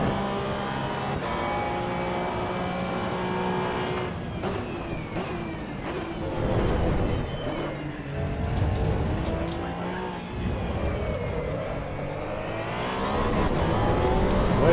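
A race car engine in the Assetto Corsa Evo sim drones and revs through shifts, rising and falling pitch with brief lifts and tire noise, loud and continuous with no voice over it.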